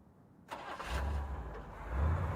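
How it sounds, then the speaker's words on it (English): A car engine starts with a sharp crank and catch, then settles into a low idling rumble, close and moderately loud, with no voices. "Then a car starting."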